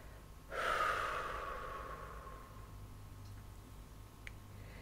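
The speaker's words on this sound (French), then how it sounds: "Puis tu souffles tout doucement par la bouche en relâchant tous tes muscles." A slow exhale through the mouth during a relaxation breathing exercise, a single close breath that starts strong and fades gradually over several seconds, followed by faint ticks.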